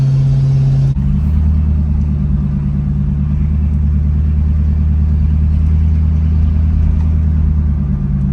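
A Chevrolet Impala American muscle car engine idles with a deep, steady rumble that stays close and loud for several seconds after a brief change in tone near the start, with no talking.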